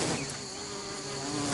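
Assam killer bees swarm as soldier bees start to move, a dense, continuous close-up buzz with a steady droning whine and no voices.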